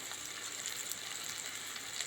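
Small onions frying in coconut oil in a pan, a steady soft crackling sizzle with fine hissing texture, continuous and fairly quiet, without any voices.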